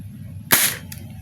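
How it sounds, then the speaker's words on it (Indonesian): A single sharp shot from a Dcobra M416 spring-powered airsoft rifle fired through a chronograph, a quick close snap over a low background hum, with a faint smaller click just after. "Oke, kita mulai dari tembakan pertama."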